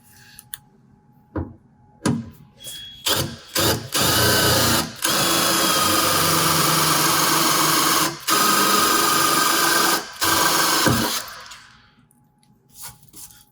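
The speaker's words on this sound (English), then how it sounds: "Drill each hole." An electric drill bores holes through a metal base plate while fitting an EGR dust defence kit to a 2021 Isuzu D-Max X-Terrain, with a steady loud whine running in long sustained bursts separated by brief pauses and a few clicks.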